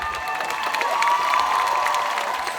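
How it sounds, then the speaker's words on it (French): Audience at a cosplay contest on stage applauding and cheering, a steady wash of clapping and crowd noise that holds at an even level throughout with no one speaking. "on l'applaudit bien fort"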